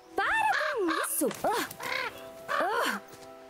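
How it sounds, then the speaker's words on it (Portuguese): Harsh crow caws from The Quarry on PS5, several rough calls in short bursts, loud and close, with people talking in between. "Deixa o corvo em paz, moça."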